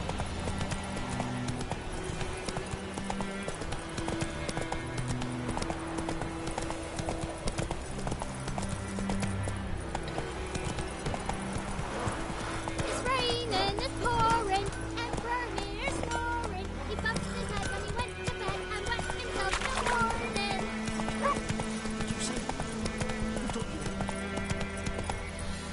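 Horse hooves clip-clop steadily in the video game Witcher 3, with a rhythmic gait that carries on throughout. Game music and ambience play underneath, and a voice speaks briefly over it.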